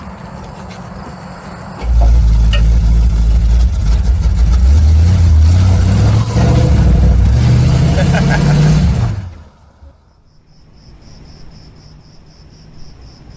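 Old muscle car engine that runs poorly, a loud low rumbling idle and revving from about two seconds in that drops away near nine seconds, leaving quiet background hiss.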